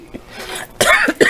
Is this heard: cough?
yes